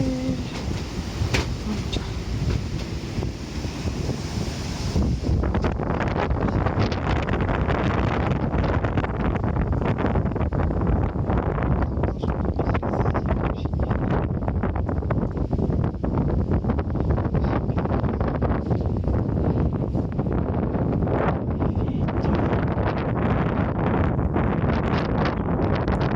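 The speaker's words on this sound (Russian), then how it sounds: "Метель." A blizzard's wind roars outdoors as a loud, continuous, gusting rush against the microphone with no break throughout.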